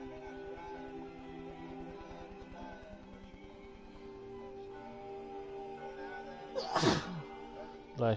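A single sharp sneeze bursts out near the close during a home live stream of a PS4 game, loud against a steady low background hum, followed by a short vocal sound.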